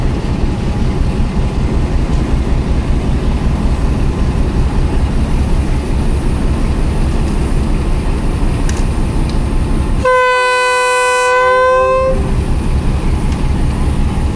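Rehman Baba Express pulling out of Attock City Junction on a hot day, with a continuous loud rumble of rolling wagons and a long, sustained horn blast partway through.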